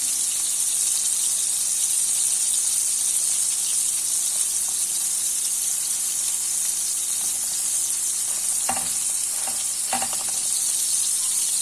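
Bread dipped in oil fries in a pan beside meatballs, giving a steady, continuous sizzle with a few louder crackling pops near the end.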